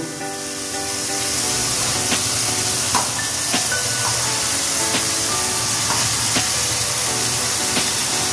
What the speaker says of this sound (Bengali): মশলার মধ্যে তেল ছেড়ে গেছে, এবার বাঁধাকপি দিয়ে দেব।